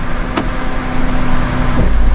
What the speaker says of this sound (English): We're gonna apply the parking brake.